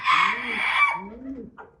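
A rooster gives a short, close call with a rising and falling, throaty tone, heard alone for under two seconds.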